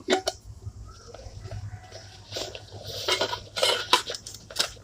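Metal camping pots and lids of an SY-300 set clink and clatter as a large pot is nested and packed away, with scattered knocks and rattles, close and fairly quiet.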